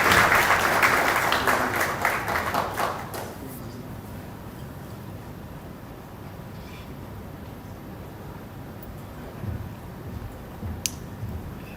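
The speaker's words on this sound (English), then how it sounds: "A round of applause for him," Audience applause for a speaker at an International Atomic Energy Agency meeting in Nairobi, a loud burst of clapping in a hall for about three seconds that quickly dies away into quiet room tone.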